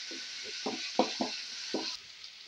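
Onion and chopped medium tomato frying in a pan for radish-greens palya, a steady sizzle with several scraping stir strokes at an uneven rhythm, close and fairly quiet, with no talking.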